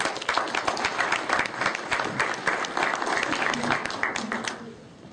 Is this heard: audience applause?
yes